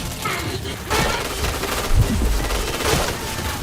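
Rapid bursts of gunfire in a shooter video game, repeated shots and heavier thuds in quick succession, loud and close, with some voices over the action.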